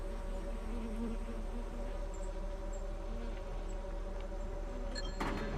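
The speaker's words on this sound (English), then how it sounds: "Hey, those bees are kind of dangerous." A faint, steady insect-like buzzing of bees in the video game Minecraft, a thin continuous drone under quiet background tones, with no talking.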